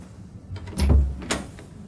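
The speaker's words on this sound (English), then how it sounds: "She opened the door and went in." A door opening as a sound effect in an indoor setting, a single close creak and soft thud near the middle, faint room tone around it.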